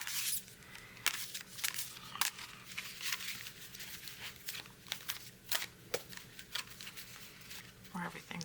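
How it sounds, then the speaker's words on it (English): Large tarot cards being shuffled by hand, a run of crisp riffling and slapping bursts at close range, with talking continuing throughout. "we'll give a little shuffle. These are some big cards"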